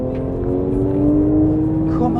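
Porsche 997 GT3 RS 4.0, a 2011 manual with 500 PS, howling steadily from behind the cabin as it accelerates hard, a sustained engine note rising through the revs.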